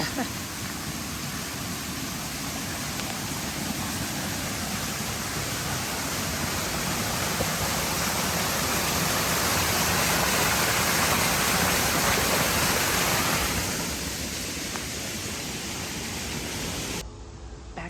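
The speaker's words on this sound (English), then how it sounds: "Still a lot of water gushing out" Floodwater gushes and roars steadily near Bear Mountain State Park on the Appalachian Trail, a broad rushing wash that swells midway and then eases before cutting off.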